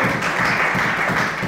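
A church congregation applauds together, producing a loud, dense, continuous wash of clapping from many hands that fills the room without any break.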